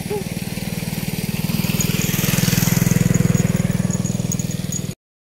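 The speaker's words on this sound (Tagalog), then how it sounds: "Sabi din may motor." A mid-pitched motorcycle engine runs steadily at close range along a village road in Calatagan, Batangas, with a pulsing drone that swells and then cuts off abruptly near the end.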